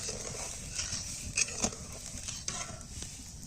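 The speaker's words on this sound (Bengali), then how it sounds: "চিনি শিরাটা যখন এইরকম ফুটে উঠতে শুরু করবে" Sugar syrup bubbles at a boil in a karahi for pitha: a faint, steady simmering fizz with soft stirring scrapes and a couple of light clinks of utensil on pan.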